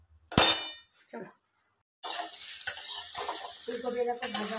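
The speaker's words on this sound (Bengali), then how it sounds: "ফুলকপি এরকম ভাজা হচ্ছে, কমিয়ে কমিয়ে ভাজতে হবে" Cauliflower frying in a pan on a home stove, a steady close sizzle with scattered utensil clinks and stirring scrapes, following a brief burst of earlier noise and a short quiet gap.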